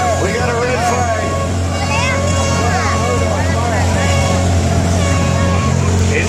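A small car in a demolition derby holds a steady engine roar with its accelerator stuck, droning without pause beneath crowd hubbub and an announcer talking over a loudspeaker.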